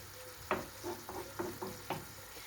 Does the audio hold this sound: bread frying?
yes